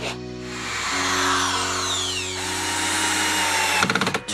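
A power drill whines close and loud as it drives a fastener into a bracket on the roof of a 2024 Ford Transit 250 van, the motor pitch shifting before it stops with a few ratcheting clicks.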